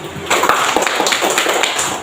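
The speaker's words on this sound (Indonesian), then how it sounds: "Tepuk tangan dulu" A classroom of primary school children at a Catholic school in Ende claps together after a correct answer, a dense burst of hand applause lasting about two seconds.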